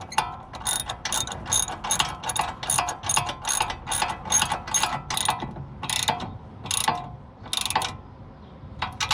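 Ratchet tightening a tie rod on a 2007 Nissan 350Z, a rapid run of sharp metallic clicks in repeated bursts, close and clear with no talking.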